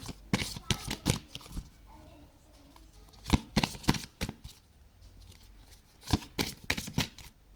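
Angel cards being shuffled by hand: repeated quick riffling bursts and flapping card slaps in irregular clusters, close and crisp, with quiet gaps between and no speech.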